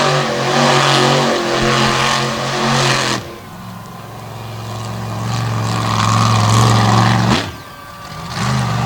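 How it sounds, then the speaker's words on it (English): A mega truck on worn China tires cuts a donut at a Renegade MTT event in Brownstown, Indiana, its engine revving loud and close in a sustained roar that drops off twice before surging back. "As Cory gonna cut out a donut."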